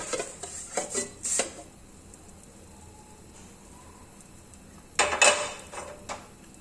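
A plate is set upside down over a pan holding bread and egg so the food can be flipped, giving a cluster of close, clinking metal and ceramic knocks. After a quiet pause, a second burst of clattering follows.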